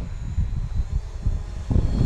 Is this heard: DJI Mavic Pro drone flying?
yes